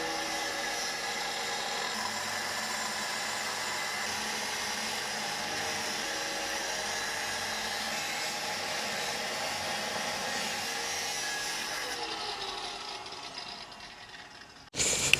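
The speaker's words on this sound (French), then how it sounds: "je coupe ça avec ma petite disqueuse" A small angle grinder cuts through a car exhaust line with a steady, loud, high whine that holds for about twelve seconds and then winds down as the disc slows, with no talking.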